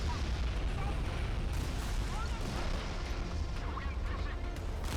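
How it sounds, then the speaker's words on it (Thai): Naval artillery cannon fire from warships in the mobile game Modern Warships, a dense, continuous rumble of booms and blasts layered over one another, loud and sustained throughout, with voices faintly mixed in. "วันนี้จะยิงปืนใหญ่จริงๆ"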